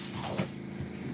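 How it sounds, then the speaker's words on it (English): Airbrush spraying paint onto jointed crankbait lures, a short continuous close hiss over a low background hum; no talking. "Thin that airbrush out slightly."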